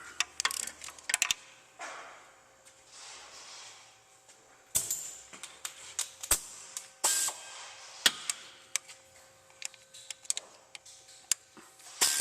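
Removing the 12 mm bolts of a timing belt tensioner on a Lexus RX 1MZ-FE engine: sharp metallic ticks and clicks of a ratchet and tools, irregular and close, with brief clanks of metal parts, no talking.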